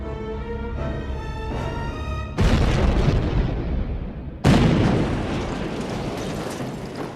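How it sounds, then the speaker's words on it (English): A massive gunpowder blast tears apart a crematorium: two loud, sudden booms a couple of seconds apart, each with a long rumbling roar that slowly fades, following a brief tonal opening. "A massive explosion was heard throughout Auschwitz-Birkenau."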